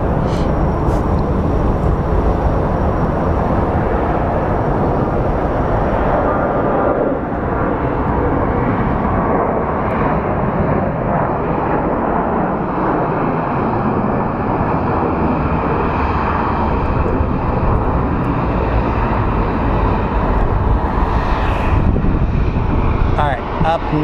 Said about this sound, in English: Up next is our flight to Chicago on board the Southwest.